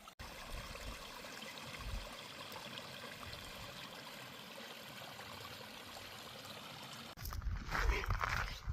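Faint trickling stream water flowing steadily on the Pacific Crest Trail in Oregon, near snow, with a louder rustle or splash near the end.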